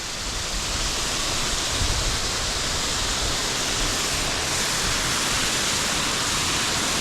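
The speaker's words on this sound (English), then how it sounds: "So let's have a look from behind the waterfall." A steady, loud roar of falling water at Newstead Abbey's waterfall in Nottinghamshire, heard from behind the falls, broad and continuous, filling the whole stretch without a break.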